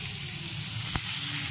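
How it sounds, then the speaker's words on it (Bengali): Tomato fries in a pan in a home kitchen with a steady, close crackling sizzle, broken once by a single short clink. "হ্যাঁ টমেটোটা ভেজে নিচ্ছি"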